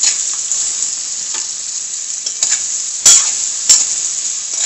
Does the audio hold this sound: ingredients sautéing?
yes